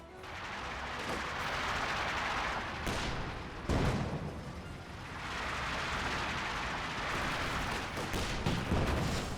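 Gunfire and artillery in the Company of Heroes 2 battle on Amilly Fields form a steady roar of battle noise, with a sharp heavy blast near the middle and more shots later, and no talk over them.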